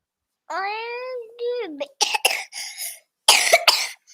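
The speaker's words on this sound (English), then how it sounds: "There's that cough." A short vocal sound, then a few harsh, close coughs in two bursts, loud and raspy, with a pause between them.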